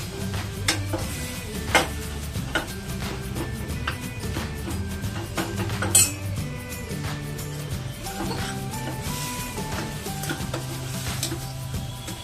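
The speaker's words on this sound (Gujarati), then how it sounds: "પેલા એને વચ્ચે જ મિક્સ કરવાનું" Garlic chutney stirred into a pan of cowpea and potato curry, with a spoon scraping and clinking against the pan over a low, continuous sizzle, close and steady throughout.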